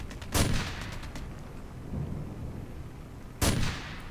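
A rifle fires in Operation Flashpoint: Dragon Rising, giving two loud booming shots a few seconds apart, each with a rumbling echo, and a fainter thud between them.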